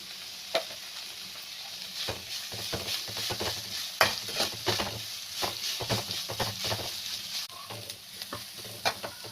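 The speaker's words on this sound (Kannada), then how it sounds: "ಈರುಳ್ಳಿ ಸ್ವಲ್ಪ ಬ್ರೌನ್ ಆಗೋವರೆಗೂ ನೀಟಾಗಿ ಫ್ರೈ ಮಾಡ್ಕೊಳ್ಳೋಣ" Salted onions frying in a pan until browned, a steady sizzle broken by scraping, clinking stirring strokes, close and alone without talk.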